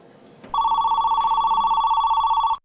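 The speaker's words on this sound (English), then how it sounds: "the phone rings constantly" A telephone at a pizza shop in Susquehanna Township rings with a steady electronic trill, starting abruptly after faint background noise and continuing loud and close until it cuts off.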